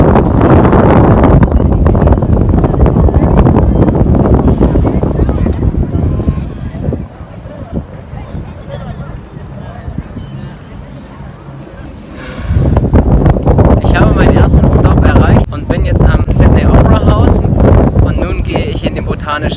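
Heavy wind buffeting the microphone in loud low rumbling gusts, easing for a few seconds midway before roaring back strongly, at the Royal Botanic Garden in Sydney.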